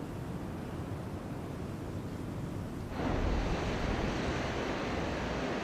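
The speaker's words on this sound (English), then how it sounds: "raging seasonal winds blow across the plain from the ocean" Raging winter wind sweeping across the snow-covered Sarobetsu Plain from the ocean in December, a steady roaring rush that surges louder about halfway and keeps blowing hard, with no voices.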